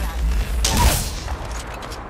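Gunfire in a shooter video game, a loud close burst of shots with sharp cracks and rumbling low booms, the sound dense and continuous before fading slightly.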